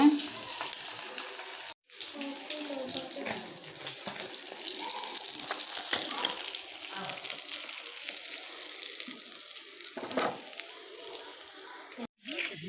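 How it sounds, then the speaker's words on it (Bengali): Hilsa fish frying in a pan at home, a faint, continuous sizzle and crackle that runs steadily throughout with brief breaks, while a voice talks softly over it. "এই যে এখন মাছটা বাজা হয়ে গেছে"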